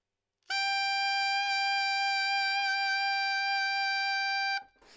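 An alto saxophone plays a single sustained E using the alternate fork-key fingering with the octave key. The steady, bright tone holds for about four seconds and then stops abruptly, played close and alone.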